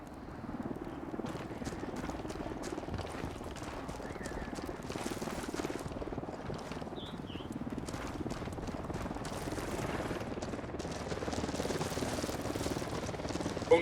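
Helicopter in the Ghost Recon Wildlands video game, a steady rotor drone holding at even loudness throughout, with game ambience and a faint voice mixed in.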